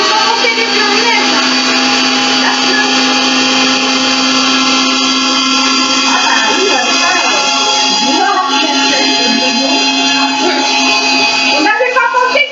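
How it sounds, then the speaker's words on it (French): A steady, loud electric whir of a kitchen mixer whipping egg whites runs throughout, its pitch wavering slightly as beaters whip, with no talking over it. "Donc on va monter les blancs en neige."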